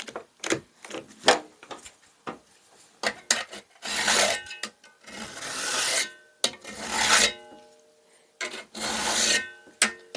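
A cabinet scraper is sharpened with a Rockler cabinet scraper sharpening tool, giving close, loud rasping strokes in irregular bursts of a second or two, with brief pauses between the passes.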